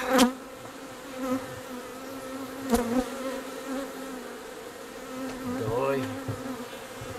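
Honeybees buzz steadily around a hive during an April inspection, a dense, close insect drone with a few louder passes near the microphone and faint handling knocks.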